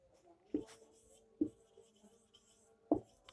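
Writing a sentence by hand during a class, three short distinct scratching strokes of pen on paper, close and quiet in a still room.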